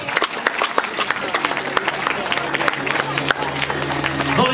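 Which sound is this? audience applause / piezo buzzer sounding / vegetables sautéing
audience applause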